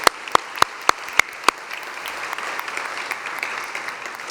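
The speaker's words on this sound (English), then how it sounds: "another round of applause, please, for Dwayne Morris, Sandra, and Rich." Applause from a conference audience: a few sharp, evenly spaced claps open it, then many hands join in a steady, moderately loud patter that continues to the end.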